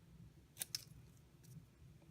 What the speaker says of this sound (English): I just took my scissors, my little snips, and I just sort of cut it the size that I thought I needed it.